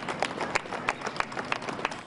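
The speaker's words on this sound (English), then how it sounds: "the sound of clapping, cheers, and gratitude flooded the silence" Crowd applause and scattered cheering on a New York street in Midtown as visiting healthcare workers depart, with sharp individual claps standing out over a moderate, steady patter.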